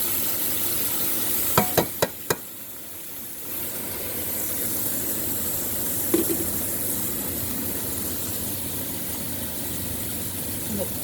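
Taco fillings cook down in a pan with a steady, moderate sizzle under a constant extractor-fan hum, broken by a few sharp utensil clicks near the start and one more knock midway.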